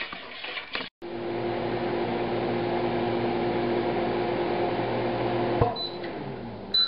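A microwave oven runs with a cup of butter melting inside, giving a steady, even hum for about five seconds after a brief start, then a click and a short tone at the end.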